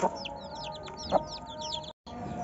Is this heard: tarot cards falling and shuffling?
no